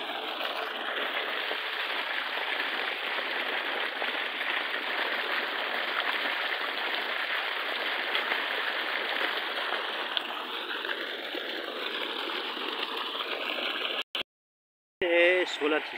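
Clean spring water flowing steadily at a village water source, a continuous rushing gurgle close by that holds level for most of the stretch, then cuts out abruptly near the end with a brief break.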